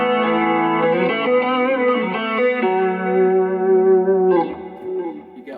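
Electric guitar played through an effects rig with wet modulated and delayed signal blended with the dry tone, sustained melodic notes ringing clearly for about four seconds before fading.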